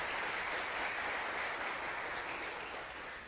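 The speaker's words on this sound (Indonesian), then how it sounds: "kita beri aplaus kepada Pak Lo Keng Hong" Audience applause for investor Lo Kheng Hong at a university investment talk, steady and dense clapping from a crowd that holds an even level for the whole span and eases off slightly at the end.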